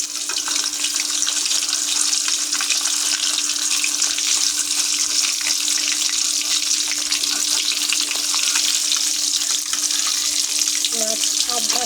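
Large kalbaus fish pieces frying two at a time in a kadai of hot oil, a loud steady hiss and crackle, close, with faint scraping near the end as a piece is turned.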